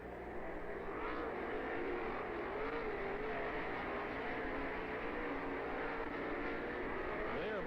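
Sprint cars race in the A main at Lernerville Speedway in Sarver, Pennsylvania, a continuous, fairly distant engine roar that swells and bends in pitch as cars pass.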